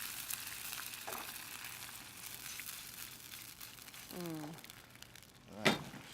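Cabernet red wine reducing in a pan over crispy shallots, a soft, steady sizzle and hiss that runs faintly throughout while a person talks over it briefly.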